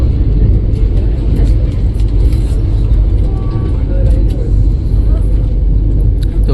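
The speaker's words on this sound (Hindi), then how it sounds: "एंड गाड़ी 130 पे भाग रही है" Vande Bharat Express running at 130 km/h, heard from inside as a loud, steady low rumble with faint clicks and rattles, and a voice talking over it.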